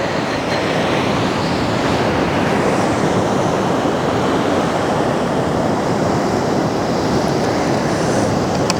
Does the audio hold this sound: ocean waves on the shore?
yes